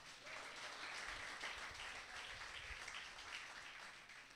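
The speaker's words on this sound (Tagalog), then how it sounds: "Palakpak naman kayo." A church congregation breaks into steady, dense applause during a sermon, a sustained wash of many hands clapping at moderate distance for about four seconds, with no one speaking over it.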